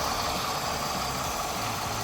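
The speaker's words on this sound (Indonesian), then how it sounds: "mesinnya halus banget" A Mercedes-Benz 3000 cc V6 engine idles smoothly with an even, low steady hum and no revving, close by and unaccompanied by voices.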